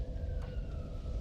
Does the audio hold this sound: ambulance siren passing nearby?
yes